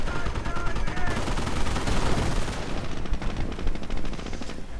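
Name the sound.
Allied gunfire in a WWII strategy video game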